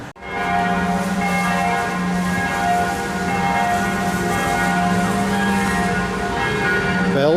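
Church bells in Vienna ring continuously, a rich overlapping peal of sustained tones, loud and steady throughout.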